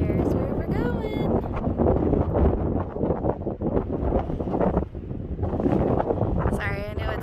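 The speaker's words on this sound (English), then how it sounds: "I know it's really windy." Strong wind buffets the microphone in rumbling gusts throughout, with a person talking underneath, outdoors in the desert.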